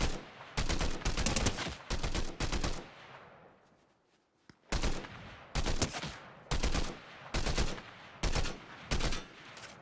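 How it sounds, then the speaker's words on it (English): Gunfire in a Fortnite Zero Build squads match: bursts of rapid automatic shots in several clusters, loud and close, separated by a short quiet gap. "Great shooting. Missed every shot other than one, I think."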